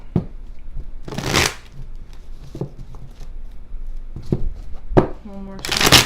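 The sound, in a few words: shuffling tarot cards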